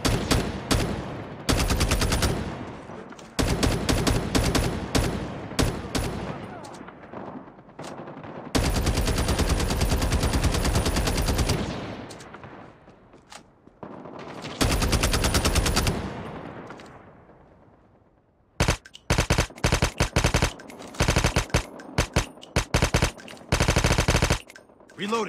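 AK117 rifle gunfire in Call of Duty Mobile, loud rapid automatic bursts in several long strings separated by brief pauses and fading tails, ending with quick choppy volleys.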